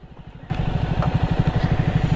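A motorcycle engine on a winter ride through Purulia climbs uphill under throttle after a brief quiet start, a loud, close, rapid low thumping that pulses steadily with no talk.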